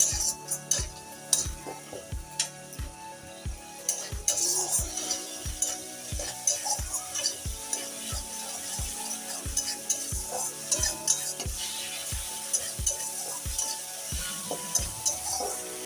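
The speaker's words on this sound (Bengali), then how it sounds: "ভালো করে আবার মশলা কষিয়ে দেবো" Spice paste with turmeric and cumin powder stir-fried in a pan for potol posto, with a soft sizzle under regular spatula strokes knocking and scraping about once per half second, close and steady with no talk.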